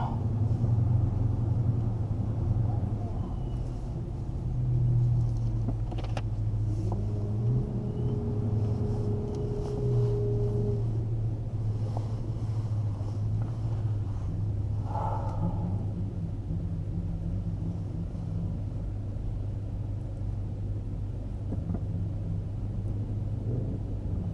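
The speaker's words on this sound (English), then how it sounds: "All right, race against the Hellcat, guys." Heavy car engine drone from a race against a Dodge Hellcat with traction control off, a steady loud low rumble holding the whole time with shifting pitch and a brief rise near the middle, no voices.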